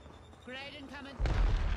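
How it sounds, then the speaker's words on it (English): A grenade goes off in the Apex Legends video game, a sudden loud low boom that rolls on right after a short stretch of voices in the match. "Grenade incoming"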